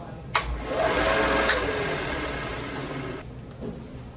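A knife is pressed against an electric sand belt machine, producing a loud, steady high-pitched whirring grind for about three seconds that starts with a click and fades off, alone and close.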